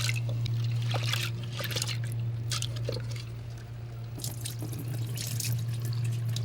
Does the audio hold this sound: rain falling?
no